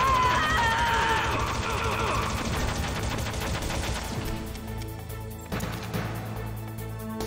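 Gunfire in Metal Gear Solid (1998, PS1): bursts of shots and crashes under a continuous music and effects bed, with voices talking over the action throughout.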